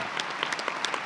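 Short burst of applause from an audience honouring spouses at a law enforcement torch run gathering, dense steady clapping at moderate loudness with no voices over it.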